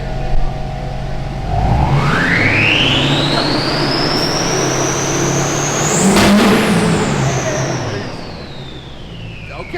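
A Duramax diesel pickup revs hard, its turbo whistle climbing steadily in pitch over several seconds to a high whine, then spinning down, loud and close over a constant engine roar.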